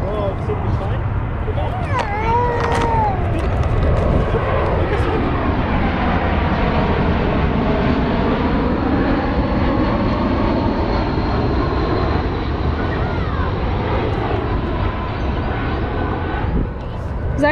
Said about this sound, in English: he wants to see the plane